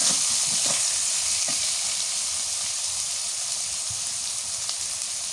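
Chopped onion goes into a pan of frying fish in hot oil, producing a loud, steady, close sizzle that hisses without a break, with faint stirring knocks underneath and no talking.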